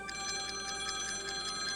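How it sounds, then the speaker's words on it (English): A telephone rings at a home early on a Sunday morning, a steady repeating electronic ring with a continuous hum beneath, moderately loud and with no voices. "Cheryl and Paul Chapman were awakened by a phone call."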